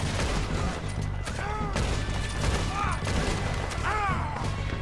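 Gunfire rings out in Red Dead Redemption II, a dense run of shots and crashes layered over a constant game soundscape, with a voice speaking faintly in the mix.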